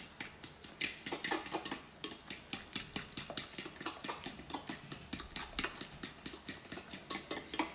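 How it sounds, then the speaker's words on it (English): Brownie batter mixed in a bowl with a fork, with quick rhythmic clinks and taps of the fork against the bowl, steady and close with short pauses. "I'm gonna start by using a fork, and then I'm gonna switch to probably a whisk if I need to."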